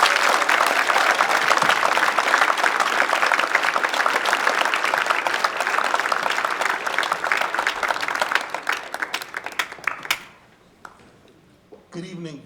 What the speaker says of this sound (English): Please give a wide, grand round of applause for Reverend Dr. Alexander G.